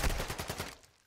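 A quick burst of automatic gunfire in Call of Duty DMZ rattles off in fast repeated shots, then fades out within a second.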